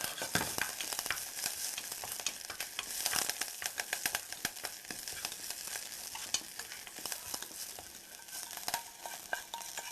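Garlic and herbs frying in a small amount of olive oil in a pan for an Italian seafood dish, a soft continuous sizzle with frequent stirring clicks and scrapes, fairly quiet, no talking.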